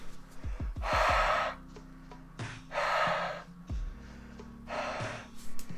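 Loud, close breathing: three heavy airy exhales or gasps spaced about two seconds apart, with low thuds and rustling between them.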